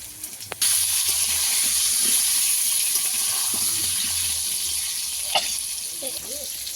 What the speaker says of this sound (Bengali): মাছগুলো ভালো করে লাল লাল করে ভেজে নেব